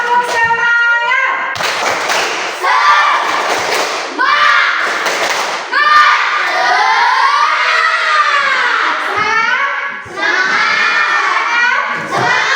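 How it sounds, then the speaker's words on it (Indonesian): A classroom of children performs the 'tepuk semangat' clapping chant, loud rhythmic claps and thumps mixed with shouted chanting voices, continuous and close for about twelve seconds. "kita tepuk semangat dulu dong"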